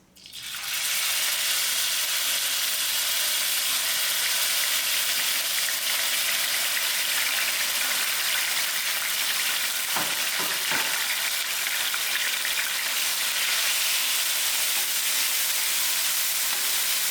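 Onions fry in half a cup of oil over moderate heat, giving a loud, continuous sizzle that starts abruptly and holds steady throughout, with a few brief stirring clatters partway through.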